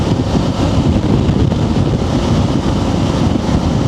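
Strong wind roars steadily and loudly against the microphone, a dense continuous rumble with no voices.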